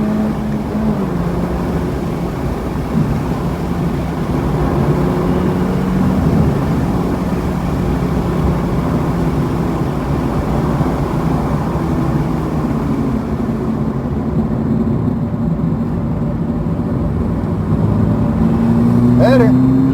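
A car engine drones loud and steady at Buttonwillow Raceway during a track session, accelerating under continuous load with wind and road roar throughout, close and unbroken.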